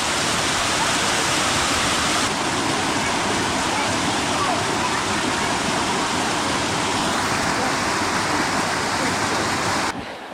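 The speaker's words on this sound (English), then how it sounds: "right here at the base of the waterfall, pump it down. Just a little mini fall." A small waterfall plunging into a swimming hole, a loud, dense and constant roar of rushing water heard up close, steady for about ten seconds before cutting off abruptly.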